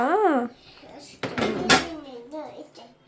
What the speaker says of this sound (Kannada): ಎಷ್ಟು ಪಾತ್ರೆ ತೊಳೆದೆ ಬಂಗಾರಿ?